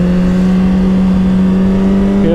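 A Suzuki GSXR1000 motorcycle engine holds a loud, steady drone in first gear, a strong constant hum with a slight rise in pitch at the very end and no pause throughout.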